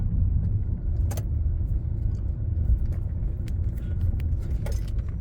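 Car slowing as it approaches a roundabout: a low, steady engine and road rumble from inside the vehicle, with faint scattered clicks and rattles over it.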